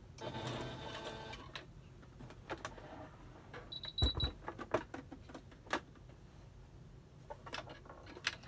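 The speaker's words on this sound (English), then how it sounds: "So I'm gonna do this on the sewing machine really quick." A sewing machine stitches a 3/16-inch seam on a pleated fabric face mask, its motor whirring in steady runs broken by short pauses and small clicks, close and fairly quiet.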